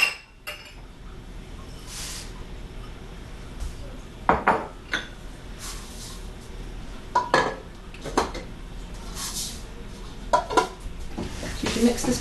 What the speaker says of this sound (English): You're going to take all of your dry ingredients and put them in a large bowl.